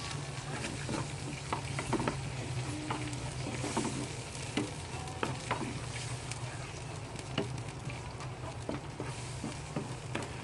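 Buttered garlic chicken wings being mixed with sweet chili sauce in a pan over steady sizzling frying, with a constant crackle and patter and frequent scraping stirs, heard close and without talk.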